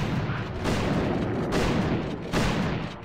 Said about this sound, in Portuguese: Vocês estão vendo aqui tem canhão bom e canhão disparando e morteiro aqui contra ele